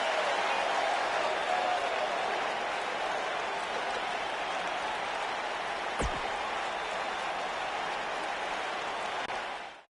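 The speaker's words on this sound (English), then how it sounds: "It's hard to ignore the buzz coming from this Tampa crowd tonight." Crowd noise from an arena in Tampa in the wrestling video game WWE 2K19, a dense, steady roar of cheering and applause that holds at an even level before cutting off at the end.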